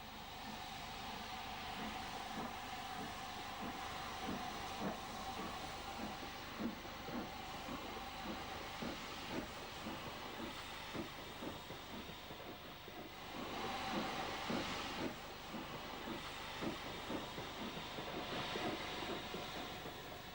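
Steam train hauled by a borrowed London Midland Class 5 locomotive on a Southern line in the last years of steam, a steady loud rumble of wagons with hissing steam running throughout, close and without any talk.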